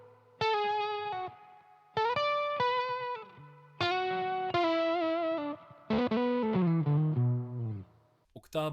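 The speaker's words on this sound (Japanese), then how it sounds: "オクターブアップ成分が強めに出てゲート感もかかるんで、また違ったニュアンスサウンドになります。" An electric guitar runs through a clean octave blend fuzz pedal with its volume knob turned down, playing a series of ringing chords and single notes with a gated, octave-up edge.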